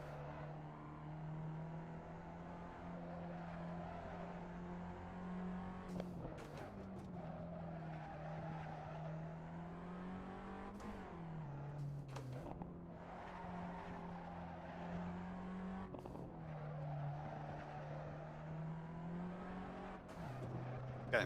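Race cars in a racing video game, a steady engine drone with tires sliding and squealing through corners, pitch dipping and rising across several shifts, continuous and moderately quiet.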